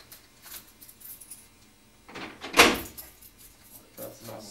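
A key turning in the lock of an old door in the armoury of Osaka castle, one sharp metallic clack with a short rattle of the mechanism, close and alone in a quiet room with faint rustles around it.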